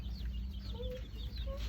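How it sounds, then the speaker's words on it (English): Baby chicks and chickens in a Rural King farm store in Spring Hill, Florida, clucking and peeping in soft, scattered calls over a steady low hum of store noise. "Chickens. Peepers. Little baby chickens."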